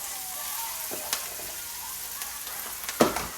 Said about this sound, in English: We're just basically stir frying these beans.